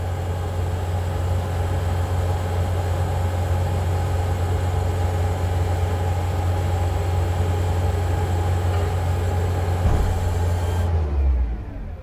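A Manitou MT625H telehandler engine runs at full throttle with a steady low diesel drone and whine, holding constant for about eleven seconds before cutting off abruptly.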